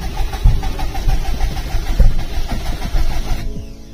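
A Subaru WRX engine turns over on a start attempt after eight months of sitting, a steady cranking churn with uneven low thumps that carries on throughout and stops abruptly near the end without catching.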